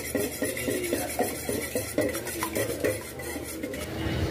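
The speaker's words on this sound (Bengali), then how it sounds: "এখানে এগ নিয়ে নিচ্ছি, উইস্ক করে নেবো ভালো করে।" Eggs being whisked in a bowl for a cake batter, a quick rhythmic clatter of metal against the bowl repeating steadily and close by, with no talking.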